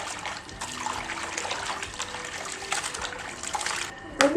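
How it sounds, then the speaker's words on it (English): Raw beef being washed in water for a large batch of Nigerian party jollof rice, with steady splashing and trickling close by and a louder slosh at the end. "I want to wash it and put on fire."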